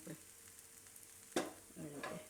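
Patra pudla fries in a little oil on a pan, with a faint low sizzle and a couple of clattering stirs or scrapes near the end.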